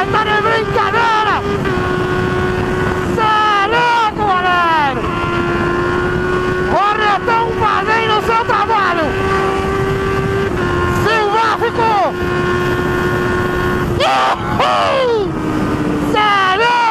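A Honda Hornet motorcycle revs and accelerates through repeated gear changes, its loud engine note rising and dropping again and again, with wind rush and riders shouting excitedly in Portuguese over it.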